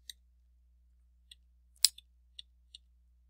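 A handful of sparse, quiet clicks from keys on a computer keyboard, isolated taps spaced out over a few seconds with one sharper keystroke in the middle.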